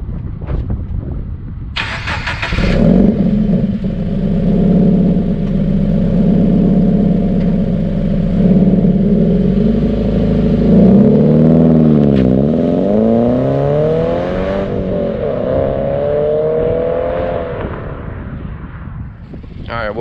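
A car's aftermarket exhaust roars loudly and close up, starting with a sharp crack, holding a rough rumble, then rising and falling through revs before settling back toward idle.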